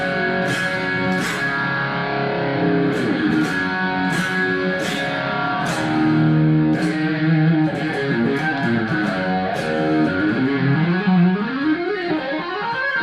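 Electric guitar run through a phaser pedal set low for a classic rock sound, playing a distorted riff and then sweeping, bending lead lines with a hazy shimmer, loud and close with no talking.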